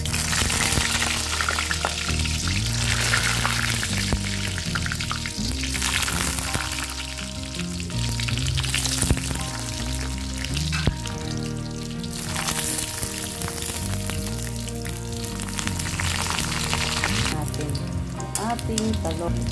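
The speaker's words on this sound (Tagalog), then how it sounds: "Ngayon guys, prituhin muna natin yung talong." Sliced eggplant frying in hot oil in a home kitchen, a constant close crackling sizzle with spattering pops, while music plays underneath throughout.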